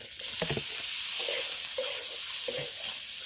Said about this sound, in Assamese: এতিয়া আমি মাংসখিনি দিম ইয়াত।